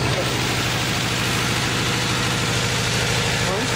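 A 1991 Toyota engine idles steadily after warming up, with new spark plugs, ignition wires and fuel filter, a loud, close, continuous rumble with even low pulsing throughout.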